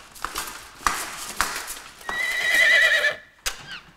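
A horse whinnies in a long, high, quavering call, with a few hoof clops and knocks before and after it, fairly close and clear.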